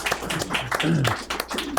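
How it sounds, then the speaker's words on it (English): Audience applause for a panel of speakers at a business talk on brewing and employee ownership, a steady burst of clapping from the room with voices mixed in underneath. "Just give them a round of applause."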